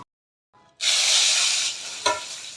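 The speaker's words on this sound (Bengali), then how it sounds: "দেখো, আমি এর মধ্যে দিয়ে দিলাম জিরে ফোড়ন," Cumin seeds and a bay leaf sizzle sharply as they hit hot oil, a burst of bright crackling hiss that settles into a steady sputter, with a brief louder flare near the end.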